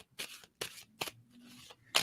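Tarot cards being shuffled close by, in four or five quick riffling bursts separated by short pauses.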